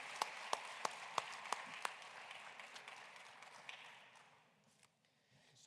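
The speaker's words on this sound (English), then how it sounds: "let's give a warm applause for our honorable speakers" An audience applauds speakers at a conference assembly session, a soft, distant wash of clapping with a few sharper claps near the start that thins out and fades away.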